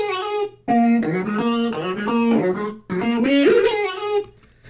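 Chopped vocal sample with automated pitch and formant shifts, sung syllables sliding up and down in two bursts separated by short gaps, dry and upfront with no accompaniment.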